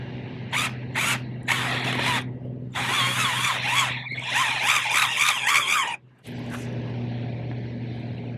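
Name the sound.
power drill with attachment drilling holes for tulips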